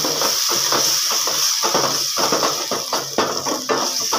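Ginger-garlic and ground tomato paste sautés in a pan for a Sunday chicken kulambu, with a spoon scraping and clinking in irregular strokes over a constant background sizzle, close by and fairly loud.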